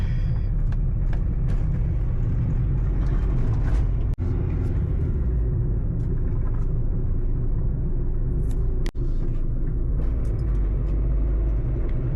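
A car drives through a city centre, a steady loud low rumble of engine and road noise from inside throughout, broken by two brief sharp clicks.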